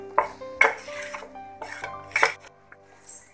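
A spoon clinks and scrapes against a bowl while pearl millet and rice flour batter is mixed for kambu dosai, giving four or five sharp, ringing knocks spaced irregularly, close and alone.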